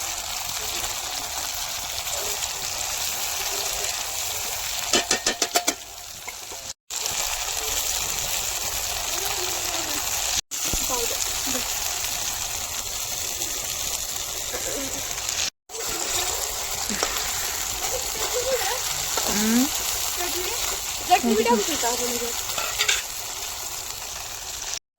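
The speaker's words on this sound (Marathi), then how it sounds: "एकदम मस्त ते फ्राय करून घ्यायची मच्छी" Fish frying in a pan with onion and garlic, a steady broad sizzle running throughout at close range, with a few brief breaks and some voice sounds over it.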